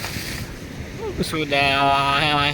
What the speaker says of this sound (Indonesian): Dan ini deburan ombaknya cukup kuat ya